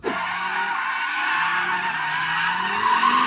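An Audi RS3 saloon drifts with a sustained tire squeal and skid, rising and wavering over steady engine drone, loud and close throughout.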